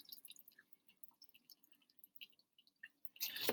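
Water drips and trickles off a classroom soil erosion model, giving a sparse run of small, close, irregular plinks and splashes over near silence, ending in a brief louder rush of flowing water.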